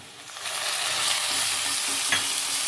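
Ginger garlic paste dropping into browned onions in a pan for chicken kosha, a sizzle that swells quickly to a loud, steady hiss with a small stirring scrape near the end.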